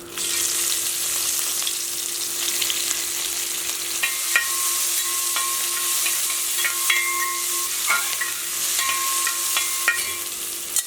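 A constant, loud sizzle of onions frying in oil fills the clip, punctuated by light scraping and crackling as the pan is stirred.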